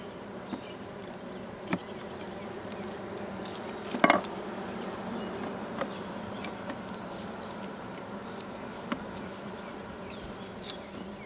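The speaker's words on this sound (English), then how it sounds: "some of these bees are starting to stick their butt in the air and flap their wings" Honeybees fanning their wings at the hive entrance during a bee installation, a steady droning buzz with a faint low hum and occasional light ticks and taps.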